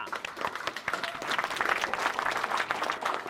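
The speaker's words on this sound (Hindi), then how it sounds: "तालियां" An audience bursts into dense, steady applause after a speaker's line, many hands clapping together without pause for about three seconds, fairly loud and close.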